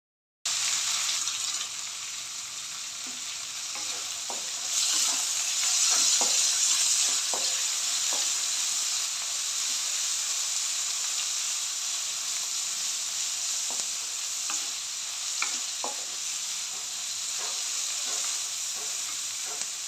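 Onions stir-fry in a pan with sauces and ginger garlic paste, giving a steady bright sizzle and hiss broken by scattered scraping stirs, with no voices.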